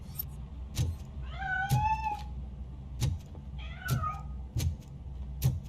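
A cat meows repeatedly while fleeing in the RoboCop: Rogue City video game, several rising and falling calls over a low background hum, punctuated by sharp clicks and thuds.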